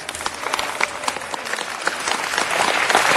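Outdoors by the Los Angeles River, a crowd gives hearty applause for the city's Department of Recreation and Parks, a thick continuous clapping that swells slightly near the end.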